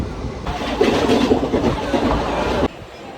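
A passenger train pulls into Uluberia station with a steady loud rumble and rattle of rail cars, which cuts off abruptly near the end.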